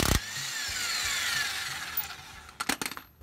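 A cordless impact wrench with a 21 millimeter socket spins loose the track bar bolt on a Jeep JK, running as a steady close whir that ends in a handful of sharp rattling bursts near the end, with no talk.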